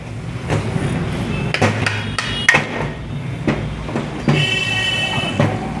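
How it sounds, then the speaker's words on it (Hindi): A plastic hammer raps an engine chamber during an engine teardown: about eight sharp, irregular knocks, close and loud, over faint workshop noise. "जब भी चैम्बर एम्बर पे चोट मारो ना, तो ये प्लास्टिक वाली हथौड़ी का यूज़ करे करो।"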